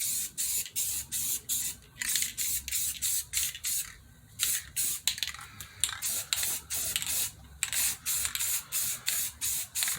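Spray paint is applied in coats to the center console of a 1993 GMC C3500 pickup, heard as a close series of short hissing bursts from an aerosol can in a steady rhythm with brief pauses between passes.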